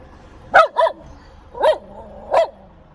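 A dog at a gas station barks sharply four times at close range, two quick barks followed by two spaced-out ones, with quiet pauses between.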